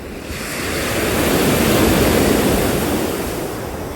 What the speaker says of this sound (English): They listen to the waves crashing in and out along the shore.